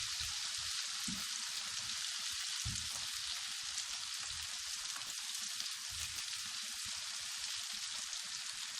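Eggplant slices frying on a hot tawa griddle, a steady broadband sizzle running throughout at close range with a few soft low bumps, no voices.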